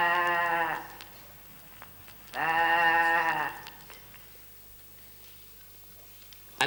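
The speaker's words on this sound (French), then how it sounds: "Un mouton, c'est un mouton." A sheep bleats loudly and close twice, each call lasting under a second with a pause between, followed by quiet background.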